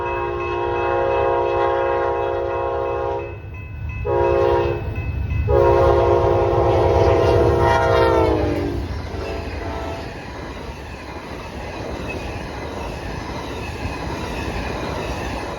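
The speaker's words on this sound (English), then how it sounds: "Here's Amtrak number 6 rocketing through town." Amtrak passenger train rushing through a small Iowa town, sounding a loud multi-note horn in several blasts as it passes close by, followed by a steady roar of wheels on rails fading away.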